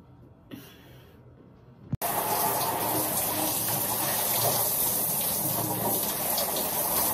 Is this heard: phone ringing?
no